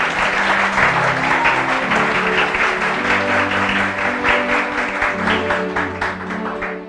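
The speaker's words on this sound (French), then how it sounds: "On l'applaudit, s'il vous plaît." Audience applauding a middle school's score at a school quiz contest, loud steady clapping over music that plays throughout, lasting about seven seconds before easing off.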